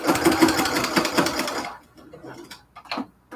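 A sewing machine stitching cathedral window quilt curtains hums in a fast mechanical burst for about a second and a half, then stops, leaving a few light clicks and handling sounds.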